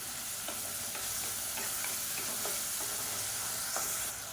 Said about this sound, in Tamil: இப்போ வெங்காயம் லேசாக வதங்க ஆரம்பிச்சிருச்சு.